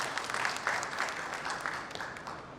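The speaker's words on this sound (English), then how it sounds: "Round of applause, ladies and gentlemen." A short burst of audience clapping after a conference panel discussion, fairly full and continuous, with a few sharper individual claps standing out.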